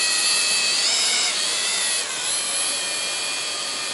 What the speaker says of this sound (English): hit the takeoff button to take off